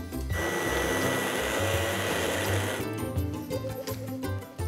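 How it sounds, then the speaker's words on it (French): A blender whirs steadily through a fish pan sauce as roughly 30 grams of butter is worked in. The motor runs loud and continuous for a few seconds, then the tone shifts and sputters toward the end. "on va venir tout simplement mixer"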